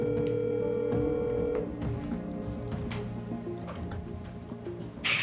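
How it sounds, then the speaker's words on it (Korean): A phone call goes out: a steady electronic tone holds for about a second and a half, then irregular ticks and short dialing beeps follow, ending in a brief burst, all fairly quiet and with no voices. "최근 입수한 전 씨의 번호로 전화를 걸어봤습니다."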